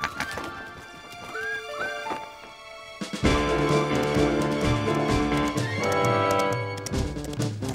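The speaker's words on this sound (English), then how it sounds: "What a magnificent young stallion, isn't he?" A cartoon horse gives a ringing whinny, then its hooves break into a steady, loud clip-clop rhythm that runs to the end, with no talking.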